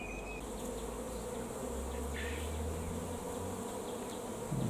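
Honeybees buzz steadily around beehives on a hot sunny day, a dense continuous drone of many insects close by with single bees passing near, and no voices.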